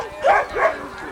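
A sled dog in Alaska gives two quick, close barks in succession, loud and distinct.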